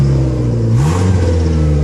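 A turbocharged car engine revs loudly up close, its pitch climbing and then settling into a strong steady drone with a faint high whine on top, with no voices.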